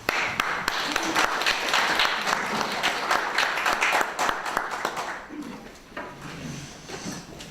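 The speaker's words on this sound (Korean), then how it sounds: "그럼 먼저 태동열 박사님 나오셔서 발표하실 때 다 같이 박수로" An academic forum audience claps to welcome a speaker, a lively burst of applause with individual sharp claps standing out, gradually thinning and fading toward the end as a few scattered claps remain.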